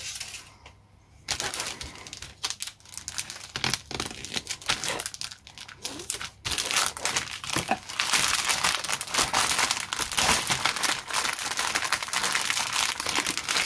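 Yellowish plastic bags of parts for an AFV Club 1/35 British AEC Matador model kit being handled, producing loud, close crinkling and rustling that starts sparse and becomes continuous and dense.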